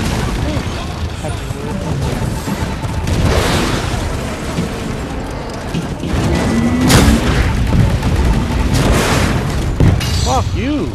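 Rocket explosions in the game Titanfall fired at an enemy Titan, heavy booms and blasts in a dense, continuous battle mix with gunfire, while a player talks throughout.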